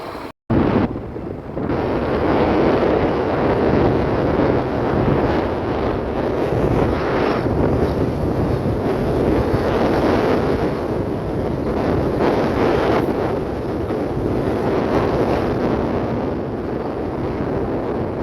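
Strong wind buffets the microphone in a steady, loud roar, with the hiss of waves behind it, while riding a scooter along Kappad beach in Calicut, Kerala on a cold, breezy morning; no one speaks.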